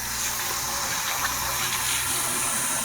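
Water runs steadily from a tap while hands are washed with soap in a home kitchen, a constant faint hiss and splash with no voices.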